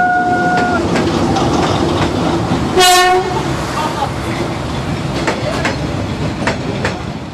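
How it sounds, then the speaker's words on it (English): A small tourist toy train in Vietnam rumbles and clatters steadily past, with a brief horn toot at the start and a sharp metallic squeal midway, over a constant background of street noise. "the government have retained them on to drive this toy train so that they could keep their jobs"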